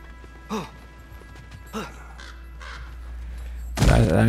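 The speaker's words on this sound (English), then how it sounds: "I hear a bird." A bird in God of War Ragnarok gives two spaced cawing calls against a quiet background, followed by a sudden loud crash at the end.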